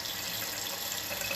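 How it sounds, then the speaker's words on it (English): Cold tap water runs steadily into a sink while ground meat is rinsed for chili, a continuous close hiss of flowing water with no talking. "Rinse the meat a little bit. Just have cold water"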